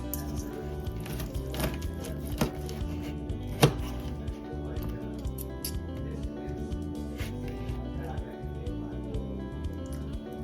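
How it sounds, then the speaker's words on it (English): A knife slicing into yellow squash and zucchini, producing a few crisp cutting thuds and one sharper chop amid continuous background sounds, with a voice talking throughout. "Okay, I've got a yellow squash and a zucchini. So let's try these. Just gonna cut into this."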